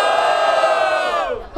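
Crowd at a rap battle in Barueri cheers and shouts loudly and continuously for a freestyle rhyme, a dense roar of voices that holds steady and then briefly dips near the end.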